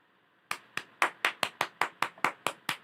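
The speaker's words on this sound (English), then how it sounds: "What does your best clapping sound like?" A person claps their hands about ten times in a quick, even rhythm, each clap sharp and close, with nothing else around them.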